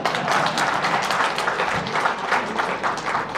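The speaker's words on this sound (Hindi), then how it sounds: "एक बार मेरे लिए भी ताली बजा ही दीजिए।" Audience applause at a panel discussion, a steady dense wash of clapping filling the whole stretch at moderate loudness with no talk over it.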